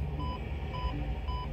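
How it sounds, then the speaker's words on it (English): An incessant electronic alarm in The Bunker video game, short tonal beeps repeating at an even interval of about half a second, loud and steady over a low droning hum. "I gotta end this beeping!"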